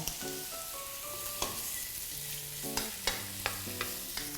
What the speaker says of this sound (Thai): กระทะใบเดิมใส่เบคอนลงไปครับ